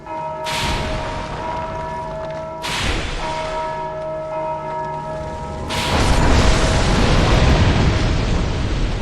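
Deep bells toll in Dark Souls 2, three heavy strikes at roughly 0.5, 2.7 and 5.8 seconds, each a loud booming clang with long ringing overtones that blur into a dense, rumbling wash by the end.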